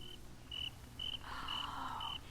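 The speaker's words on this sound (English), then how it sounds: "It's a cricket." A cricket chirps in short, evenly spaced bursts, about five in just over two seconds, faint and alone against a quiet background.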